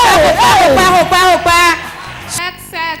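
A church congregation whooping and cheering loudly, voices overlapping in excited shouts with bursts of crowd noise, rising and falling over a few seconds.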